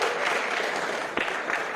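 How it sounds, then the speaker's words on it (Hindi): Brief, dense clapping from an audience at a panchgavya conference in Jharkhand, signalling agreement. A steady wash of many hands fills the short moment at moderate loudness. "सहमत है तो ताली बजाओ"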